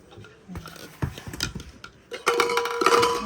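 Newly bought metal dishes and a tray are handled at home, with sharp irregular clanks and scrapes building into a louder rattle of clattering metalware toward the end.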